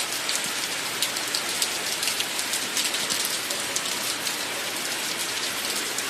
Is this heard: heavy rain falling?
yes